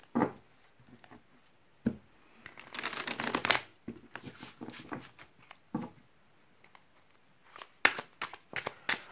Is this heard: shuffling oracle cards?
yes